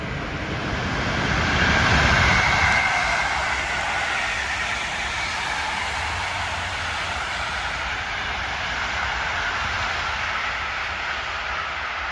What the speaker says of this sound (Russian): Скорый поезд